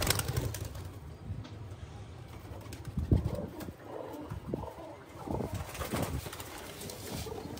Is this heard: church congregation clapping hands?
no